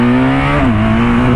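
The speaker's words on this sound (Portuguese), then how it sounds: "chega só aí cantando pneu" A car arriving with a sustained, loud engine whine and squealing tires, a steady tonal screech with a pitch shift midway, close and alone without talk.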